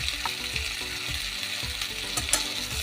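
Grated coconut sizzles in a pan with ginger and green chili paste while a spoon scrapes and stirs in steady repeated strokes, close and moderately loud, no voices.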